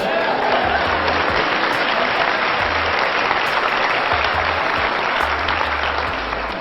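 An audience applauds loudly and continuously, a dense wash of many hands clapping with some crowd noise mixed in, sustained for several seconds.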